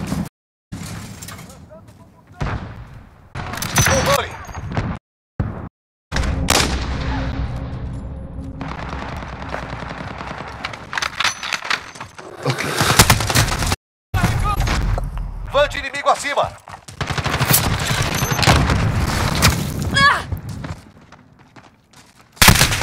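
Grenade blast and bursts of rapid automatic gunfire in the video game Call of Duty: Modern Warfare, loud, dense and repeated, with brief silent gaps and a voice talking over the action.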